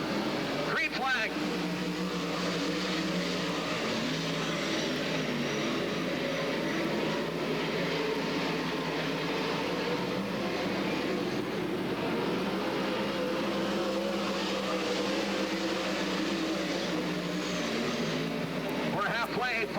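Several 360 sprint cars race flat out around Skagit Speedway in a steady, loud engine roar that holds for the whole stretch, with a race commentator talking over it.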